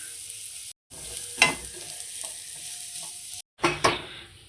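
Chicken keema being stirred in a hot pan, steady frying sizzle with scraping spatula strokes and a couple of brief pauses, close and moderately loud with no talk.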